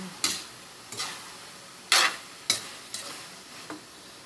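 Ground pork frying in a pan is stirred with a utensil, giving about six sharp scraping strokes at uneven intervals over a faint sizzle, close and fairly quiet, with no talk.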